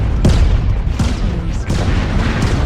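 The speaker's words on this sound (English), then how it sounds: "Artillery strike" Artillery strike explosions in the mech combat game MechWarrior Online: loud, heavy booming blasts landing in quick succession, several deep impacts rumbling close together with a dense low-end roar throughout, no talking.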